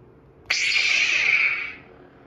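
A Graflex-style Exo-Flex lightsaber ignites with a sudden bright hum that holds for about a second and then fades out, heard alone against a faint low background.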